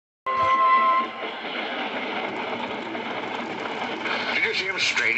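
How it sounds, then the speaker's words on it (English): An HO/OO scale model steam engine labours to start a heavy train at a china clay works, a dense chuffing, rumbling clamour rising abruptly and holding loud, with whistle-like tones above it. "Edward found it hard to start the heavy train."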